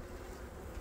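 Honey bees crowd over hive frames in a dense, continuous buzzing hum, close and steady without pause.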